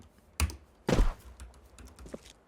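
Computer keyboard typing a console command in Counter-Strike 2, two distinct heavy keystroke bursts close up followed by a few lighter scattered key taps.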